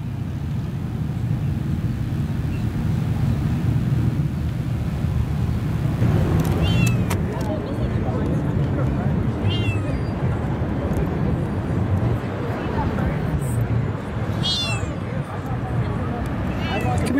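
A cat heading to Daytona Bike Week meows several times, in short cries, over a steady vehicle hum, while a person talks nearby.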